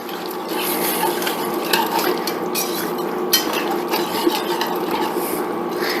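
A spoon stirs Worcestershire sauce into chicken étouffée in a pot, a continuous close scraping and swishing with a few light clinks against the metal.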